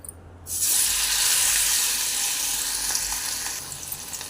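Chicken pieces drop into hot oil and break into a loud, steady crackling sizzle that fills the clip close up and gradually eases slightly, with no voices.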